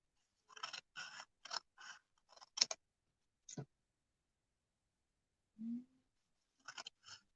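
Scissors snip through paper along drawn lines on the back of a mixed media art piece, in a quick series of short crisp cuts, then a pause and a few more snips, close and fairly quiet.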